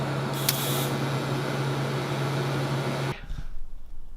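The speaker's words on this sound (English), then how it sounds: "I'm just going to tack the two corners and then weld the brace across the bottom." Steady harsh electric welding hiss while a brace is welded across the bottom, continuous and close for about three seconds with a constant hum, then cutting off into quieter shuffling.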